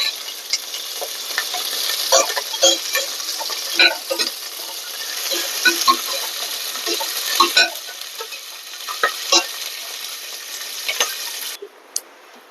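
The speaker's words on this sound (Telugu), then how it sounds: "టేబుల్ స్పూన్ అంత నూనె ఉంచుకొని ఇందులోనే పల్లీలు వేసుకోవాలి" Peanuts and curry leaves frying in a tablespoon of oil, stirred continually in a pan: a steady sizzle under repeated scraping and rattling strokes of a spoon, ending in a brief pause and a last clink.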